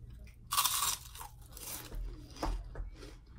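Crunchy Taco Bell chalupa shell being bitten and chewed up close, loud crisp crunches in two or three bursts with softer chewing between, no talking.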